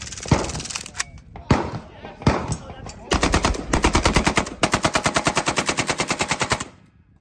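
An Arms of America mini Beryl 5.56 AK rifle with a triangle folding stock fires outdoors, first in a few loud separate shots and then in rapid sustained bursts that end abruptly, with a voice speaking over the opening shots.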